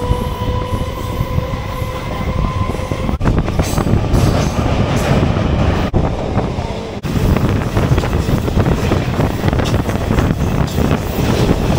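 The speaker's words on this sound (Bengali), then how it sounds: "ফাইনালি আমাদের ট্রেন ছেড়ে দিল।" A crowded local train from Kolkata to Mayapur pulls away, its loud rumbling and rattling cars filling the space along with wind buffeting the microphone, and there is no talk.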